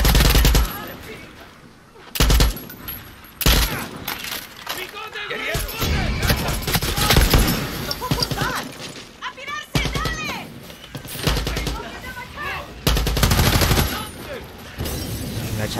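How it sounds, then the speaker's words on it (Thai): Gunfire in the Far Cry 6 video game as villagers are shot, with loud bursts of automatic shots and single cracks, explosive impacts and chaotic in-game shouting, while a player talks over the action. "ลงมาเสร็จแล้วยิงชาวบ้านกันอย่างนี้เลย"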